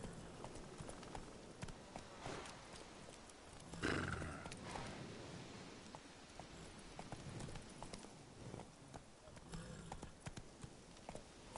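Roach, the horse in The Witcher 3, gallops at length with a steady, fairly quiet clip-clop of hooves, one stronger thud standing out early amid faint ambient game sound.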